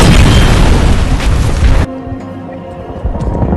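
A gas canister shot and blown up in an action film about US Marines defending against an attack, a loud, dense explosive roar that cuts off abruptly, leaving a lower rumbling tail with scattered debris.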